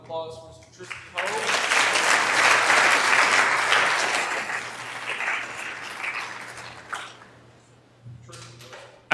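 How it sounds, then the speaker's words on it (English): A conference audience applauds for Tristan Hoag at an artificial intelligence business talk, a dense burst of clapping that rises quickly, holds, then tapers off, with a voice briefly heard before and after it. "Ladies and gentlemen, how about another round of applause for Mr."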